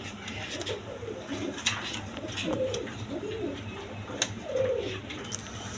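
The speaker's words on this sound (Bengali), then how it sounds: "দর্শকবৃন্দ এখানে এক পেয়ার দেশি গোল্লা কবুতর আছে" A pair of desi golla pigeons cooing near the listener, a run of soft throaty coos repeating over low background noise, with a few faint sharper sounds mixed in.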